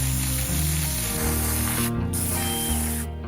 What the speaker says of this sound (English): The stones are extremely dusty and dirty, so before building I'm going to give them a good rinse down.